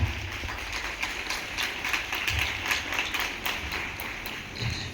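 An audience claps together for the guests at a school celebration of the 79th Independence Day, a steady, dense patter of many hands held for about five seconds with slight swells.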